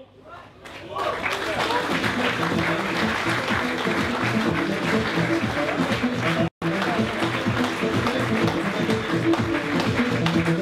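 An audience at the Trophée Andros ice-racing awards ceremony claps for a podium finisher, loud dense applause rising quickly and holding steady for about ten seconds, with a brief cut partway through.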